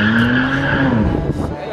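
A Toyota Supra with a stage 2 tuned BMW N54 engine launches on launch control, its engine droning loudly while the tires squeal steadily for under two seconds. Voices are heard briefly underneath.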